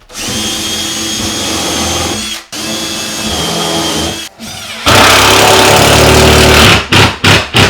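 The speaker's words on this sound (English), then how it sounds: "if you hear that and you can feel like it's biting into something, well you know you hit the stud" A power drill drives screws through cabinet backing into a wall stud in an off-grid tiny house, with loud sustained whirring bursts and short pauses between runs, ending in several quick stop-start pulses as the screw bites.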